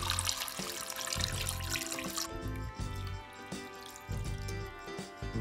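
Water pours steadily into a pot holding a chicken, a loud splashing hiss that eases into a lower gurgling fill with some clinking and bumps.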